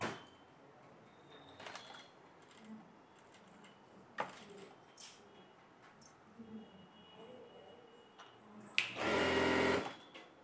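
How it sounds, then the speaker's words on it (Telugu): A sewing machine stitches a princess cut lining in a short loud burst near the end, after a stretch of quiet handling noises, clicks and fabric rustles. "నీట్గా స్టిచ్చింగ్ అనేది చేసుకోవాలి."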